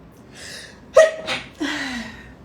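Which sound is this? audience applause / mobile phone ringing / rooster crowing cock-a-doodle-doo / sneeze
sneeze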